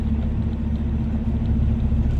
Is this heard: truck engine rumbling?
yes